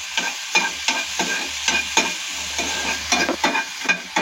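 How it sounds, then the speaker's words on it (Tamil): Chopped tomato frying lightly in a pan, a steady sizzle broken by repeated stirring scrapes at a close, even pace. "ஒரு தக்காளி நறுக்கி வச்சுருக்கேன், அதை அதே பேனில் போட்டு லைட்டாக வதக்கிக்கோங்க"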